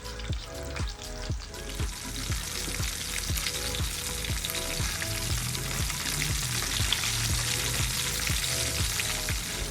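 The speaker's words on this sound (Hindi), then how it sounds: "चिकन को अच्छी तरह से दोनों साइडों से फ्राई कर लेंगे।" Crispy chicken sticks fry steadily in hot oil, a dense continuous sizzle with bubbling and occasional light stirring or pouring noises, close and fairly loud, with no voices.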